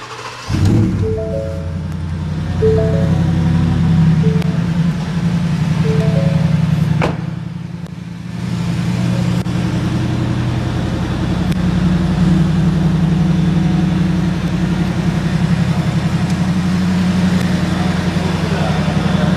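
Engine of a Shelby F150 Super Snake pickup truck running loudly and steadily for about twenty seconds after a brief rise, with a short dip partway through and a voice talking faintly over it.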